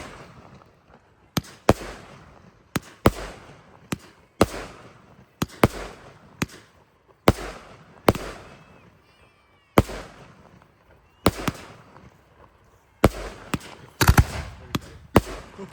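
A school fireworks display at Southwold, with loud mortar bursts cracking and booming at irregular intervals, some in quick clusters, echoing outdoors at moderate distance, and a crackling tail near the end.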